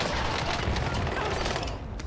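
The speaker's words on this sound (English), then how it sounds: "Allied cluster strike arriving." Cluster strike explosions in Call of Duty Warzone form a dense, continuous barrage of rumbling blasts and crackling bursts, fairly far off and steady for a couple of seconds.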